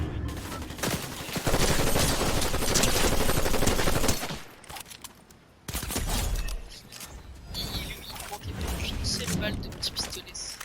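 Dense, sustained small-pistol gunfire in the Fortnite video game, with rapid overlapping shots in long bursts, a short lull, then more firing; game effects fill the mix.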